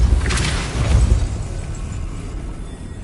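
Depulso force-push spell cast in Hogwarts Legacy, a heavy booming blast with a crackling burst at the start, then a rumbling tail fading out.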